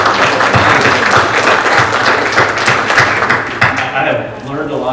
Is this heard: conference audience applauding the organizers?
yes